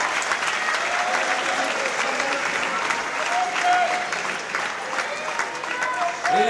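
A fight-night crowd in Geneva applauds between rounds of a combat bout, a loud sustained roar of clapping with cheering voices mixed in, close and continuous throughout.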